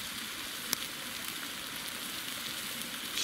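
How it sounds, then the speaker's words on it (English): Steaks cook on a hot rock at a wild overnight camp, giving off a steady, even sizzle that holds close and constant throughout, with no voices over it. "them steaks are sizzling nice"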